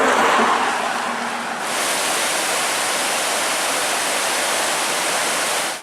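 The Cascade River rapids near Lake Superior roar close by as a dense, loud, steady rush of churning whitewater that fills the whole clip and cuts off abruptly at the end.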